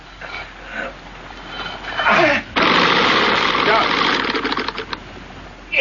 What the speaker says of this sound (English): The propeller was caught in the sand. It had a few revolutions still to run.